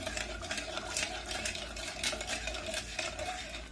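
Powdered milk is stirred into semai in a pan, a continuous busy scraping and rustling with light metallic clinks, fairly close and with no one talking.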